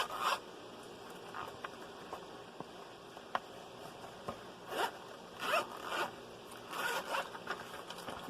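A pencil case zipper is pulled open in several short rasping bursts with pauses between, close and fairly quiet, alongside light handling clicks and taps.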